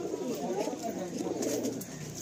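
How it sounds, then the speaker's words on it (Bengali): Madrasi pigeons in a full loft in Kolkata coo with a steady, low, throaty murmur that carries on unbroken at moderate loudness, with no talking. "খুব রেয়ার কোয়ালিটি চোখের পায়রা আমরা ভিডিওতে দেখছি"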